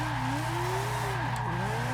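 A Mazda RX7 with a four-rotor engine drifts in a Forza racing game, a steady loud engine drone with a wavering tire squeal sliding up and down throughout, no voices.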